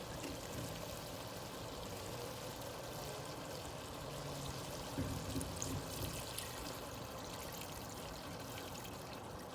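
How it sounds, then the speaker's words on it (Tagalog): A little water pours steadily into a cooking pot with a faint trickling hiss, quiet and close, running continuously throughout. "Maglalagay ako ng tubig ng kaunti."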